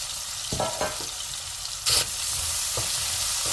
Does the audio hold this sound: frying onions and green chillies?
yes